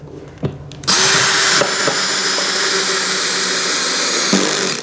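A power drill whirs steadily after a brief click, driving a screw into a wooden wall stud for a garden tool rack bracket, with a constant loud motor drone.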